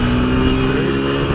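A Chinese dirt bike with a six-speed gearbox runs in third gear while being ridden, its engine a loud, close, sustained droning hum that holds steady through the short stretch.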